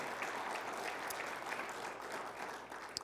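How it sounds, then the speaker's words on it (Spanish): Church congregation applauding during a sermon, dense continuous clapping from many hands with a few louder individual claps standing out, steady and moderately loud throughout. "Dale un fuerte aplauso a Él."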